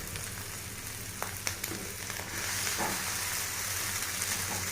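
Maggi noodles dropped into a pan of softened, melted chopped onions on a tawa, a dense close sizzle that swells louder partway through, with a few scraping knocks and no talking.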